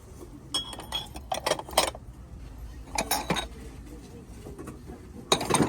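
Ceramic cups clink and rattle in a few short clusters, with quiet pauses between the bursts.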